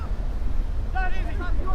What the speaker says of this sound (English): Really, bit of wind here, has to be said.